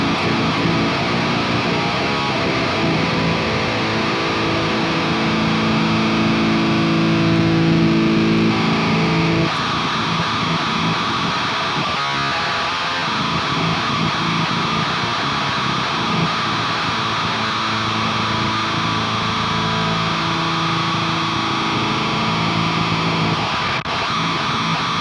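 Heavily distorted, clipping guitar in a heavy tone, playing dense, harsh, low sustained riffs that stay loud and saturated throughout, with no voices.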